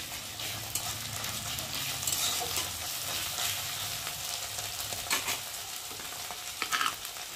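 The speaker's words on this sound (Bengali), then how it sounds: "এবার দিয়ে দেবো রসুন, আদা বাটা, একটা কাঁচা লঙ্কা ছেঁড়া দিয়ে একটু ভালো করে নেড়ে নেব।" Garlic, ginger paste and a torn green chili sizzle steadily in hot oil for a fish dish, with continuous loud frying hiss and intermittent spatula stirring against the pan.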